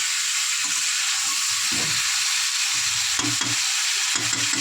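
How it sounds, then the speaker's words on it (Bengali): Slices of pointed gourd (potol) fry in hot oil, a steady close sizzle and hiss with occasional stirring clatter, no talking. "তেল, পটলটা ভাজা হচ্ছে এই দিকটায়"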